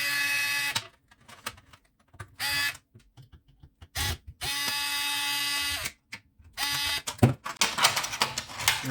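A power screwdriver or drill whirs in several short bursts while removing two screws from the main board of a Parkside PPS 40 B3 plasma cutter, with quiet gaps and small clicks between runs.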